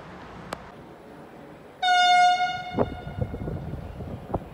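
A train horn blasts at a station platform, a strong harmonic tone sounding for about a second, followed by rumbling and clatter of an approaching train amid scattered thumps.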